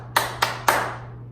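A teacher claps hands in a rhythm, with three sharp, close claps at uneven spacing and a ringing decay afterward, heard alone over a faint steady hum.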